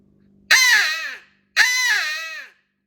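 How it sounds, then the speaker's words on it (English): Two loud, harsh caws from a crow call blown hard as a turkey locator call, each about a second long with a raspy falling tone, separated by a short pause and heard alone. "So you just blast a crow call."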